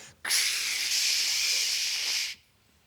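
A person imitates an Axe deodorant spray with one steady hiss, held for about two seconds and then cut off sharply.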